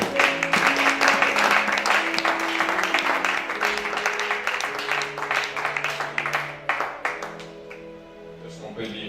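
A church congregation claps loudly and steadily, with many hands beating together over singing voices and music, then thins out toward the end.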